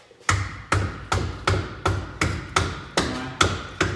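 A hammer strikes a car cross member during a V8 engine conversion on a 1963 Ford Falcon: nine sharp, evenly spaced metallic taps, close and loud, with no talking.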